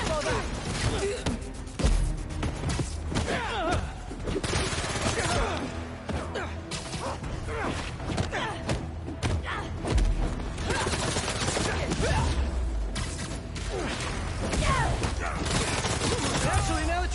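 Dense bursts of gunfire and crashing impacts from a Spider-Man 2 video game fight, loud and continuous with sharp transient volleys, mixed with voices talking throughout.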